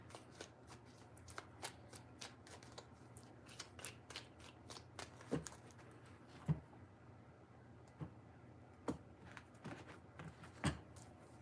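Tarot cards being shuffled by hand in quick, soft riffling bursts with sharper snaps at intervals, faint and close, with no talking.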